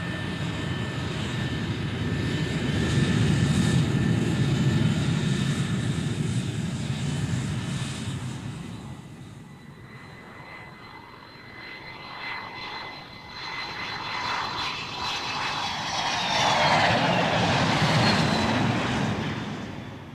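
A B-52H Stratofortress bomber with turbofan engines on its maiden flight: a loud, sustained jet roar that fades slightly, then swells again with a rising whine as it passes.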